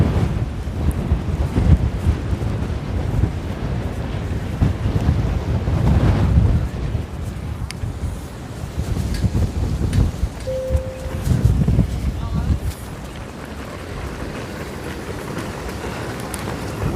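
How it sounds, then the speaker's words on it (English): Strong wind in Manhattan after a major snowstorm roaring and buffeting the microphone continuously, loud and rumbling, with gusts rising and falling throughout. "the winds are picking up big time here"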